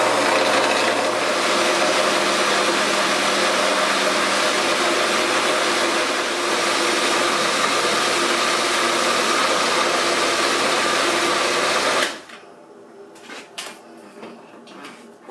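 A blender runs loud and steady on pigeon peas for about twelve seconds with a grinding, rasping whir. It then cuts off abruptly, and a few faint clinks and rattles follow.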